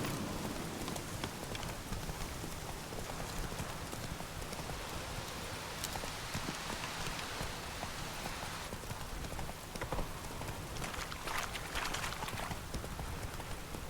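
Steady rain falls across an open landscape in The Witcher 3, a constant wash of hiss with a horse's clip-clopping hooves underneath throughout.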